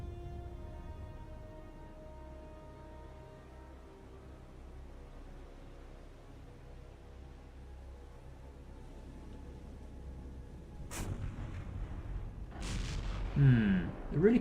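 Naval artillery in the video game War on the Sea, a steady low rumble building to several heavy booming shots near the end, fairly loud with no talk over them.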